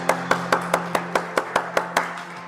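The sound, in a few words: church congregation applauding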